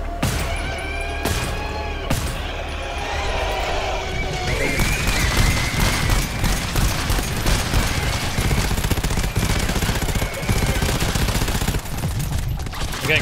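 Sustained gunfire in the co-op shooter GTFO, loud and continuous bursts of shots with crashes and impacts mixed in throughout, over a busy game soundscape with faint voices.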